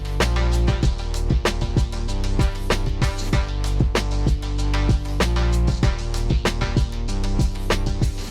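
A bouncy vocoder vocal effect pulses in a rhythmic, stuttering pattern over a loud electronic beat with punchy drum hits, with no speech.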